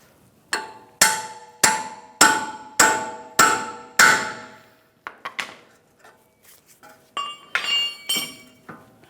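A pickle fork is hammered between a tie rod and the steering knuckle of a 2004–2010 BMW X3, giving six sharp, evenly spaced metallic strikes followed by softer scattered clinks and taps.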